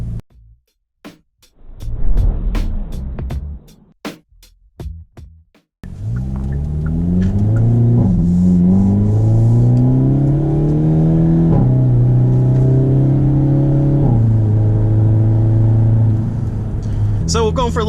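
Hyundai Elantra N engine heard from inside the car: a few soft clicks and knocks come first, then a loud, steady drone whose pitch climbs and shifts as the car accelerates through the gears.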